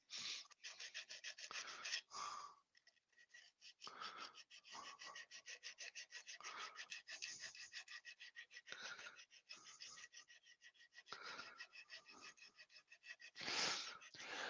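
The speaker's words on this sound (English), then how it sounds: "hand sanding" Repeated rough rubbing strokes of hand sanding, steady back-and-forth rasping bursts close by, with short pauses between strokes and no talking.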